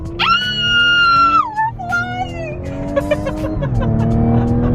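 A loud supercharged Audi engine revs hard with a rising, whining supercharger pitch, then drops as the revs fall, followed by further throttle blips and a settling rumble.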